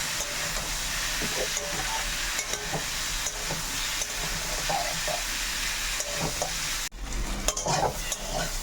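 Vegetables seasoned with salt and turmeric sizzle steadily in a frying pan while being stirred, with close scraping and clinking of the spoon against the pan, a brief louder scrape near the end.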